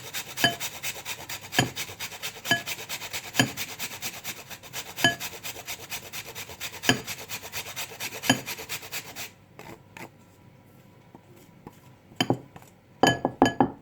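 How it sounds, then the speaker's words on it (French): Repeated rasping strokes of an ingredient, likely frozen, being grated for Japanese gyoza filling, steady rhythmic scrapes close up with small clinks, then a pause and a few final strokes. "Donc là j'en râpe une bonne partie."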